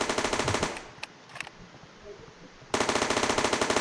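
Rapid automatic gunfire from a Counter-Strike-style Unity shooter game, loud bursts at the start and again near the end, with a quieter gap in between where a single reload click is heard.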